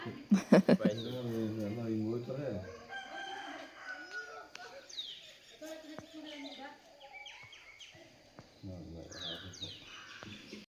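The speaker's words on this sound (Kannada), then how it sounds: "ಹಳ್ಳಿಗಳ ಕಡೆ ಬೆಳಗ್ಗೆ ಎದ್ದ ತಕ್ಷಣ ಕೋಳಿ ಕೂಗುವಂಥ ಸೌಂಡು ಮತ್ತು ಹಕ್ಕಿಗಳ ಚಿಲಿಪಿಲಿ ನಾದ ಎಲ್ಲ ತುಂಬ ಚೆನ್ನಾಗಿರುತ್ತೆ" A rooster crows in a village in the morning, a short crowing call near the start followed by scattered bird chirps and clucks against a quiet background.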